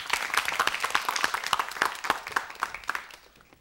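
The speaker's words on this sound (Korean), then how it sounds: "박수로 이야기 청해 듣겠습니다" Studio audience applause on a KBS Korean television storytelling show, lively clapping with sharp individual claps standing out, strong at first and gradually thinning toward the end.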